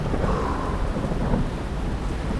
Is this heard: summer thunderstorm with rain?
yes